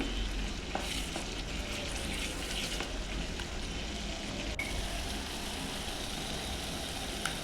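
Spiced brinjal curry sizzles steadily in a pan while a spoon stirs it, producing soft scraping and a continuous, fairly quiet frying hiss with no talking.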